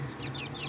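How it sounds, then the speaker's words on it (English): A few quick clucks and chirps come from small roosters and hens in a backyard flock. The sound is faint and close, over a steady low hum. "there's a lot of like nice little roosters right there"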